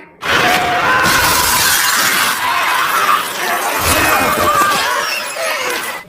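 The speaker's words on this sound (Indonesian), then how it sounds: "Pas si dokter nerobos kaca buat keluar." A window breaks as a doctor smashes through it in the 2007 film I Am Legend: a loud, sustained crash of shattering glass with scattered tinkling shards and a brief lull before a second burst of breakage.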